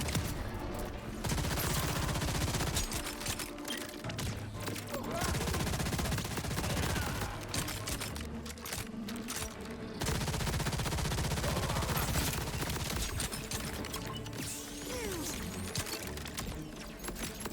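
Sustained bursts of automatic gunfire from Borderlands 4 gameplay, loud and dense for most of the stretch, with brief lulls and mechanical clatter mixed in and a voice occasionally speaking over the shooting.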